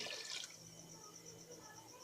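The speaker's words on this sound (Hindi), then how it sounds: "ये थर्ड गिलास पानी।" A short splash as the third glass of water goes into a spiced chicken mixture for shami kabab, loud for a moment and then fading into a quiet hum.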